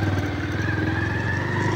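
A motorcycle ridden on a hiking trail near a waterfall, its engine a steady, close, rumbling drone with a fast pulsing beat throughout.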